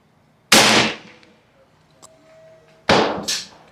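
Two sharp, loud cracks from a BinTac PA 30 pump-action air rifle fired at a range target, each with a quick decaying tail, with a faint metallic ring and small click between them.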